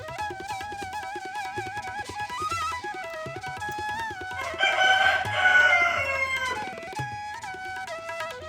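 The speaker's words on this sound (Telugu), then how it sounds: "మా కోడి అరుస్తుందండి" A rooster crows loudly nearby with a long drawn-out call midway, surrounded by clucking and other fowl sounds, with no talk over it.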